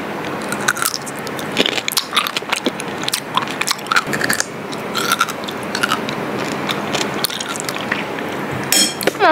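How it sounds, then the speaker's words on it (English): Close, crisp crunching as someone bites into a pickle and keeps chewing it, the wet crunches going on steadily for several seconds with no talk. "I love pickles, genuinely. Hear the crunch."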